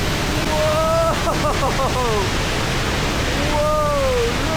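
High Force waterfall rushing below, a loud, steady roar of powerful falling water heard from above; a man exclaims in awe over the noise.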